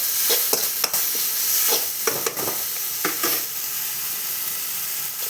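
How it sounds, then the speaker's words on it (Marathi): A boneless chicken mixture is stir-fried in oil, crackling and hissing steadily while repeated scraping strokes of a spatula sound up close. "हे चांगलं तेल सुटेपर्यंत चांगलं परतून घ्यायचं आहे।"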